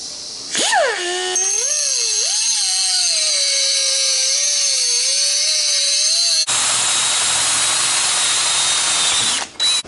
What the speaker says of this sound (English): drill a 3/8 hole,